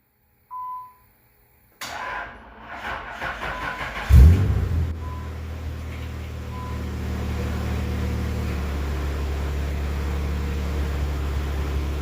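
A rusty 1987 Nissan 300ZX Z31 cranks for a couple of seconds, catches with a loud burst and settles into a steady, rumbling idle, recorded up close with no one speaking.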